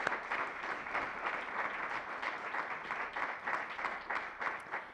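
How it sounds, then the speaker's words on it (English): Fairly quiet, continuous applause from a forum audience for commissioners fills the whole stretch, an even patter of many hands with no voices standing out. "I want to give a round of applause for our commissioners for being here and for you all for showing up."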